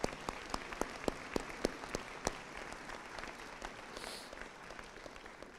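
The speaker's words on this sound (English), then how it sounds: "Please join me in a round of applause." Applause at a community salute-to-service ceremony honoring military recruits: a few distinct nearby claps over a broad crowd clapping that fades toward the end.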